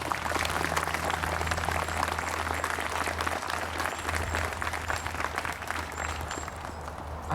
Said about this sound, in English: So a round of applause for the school,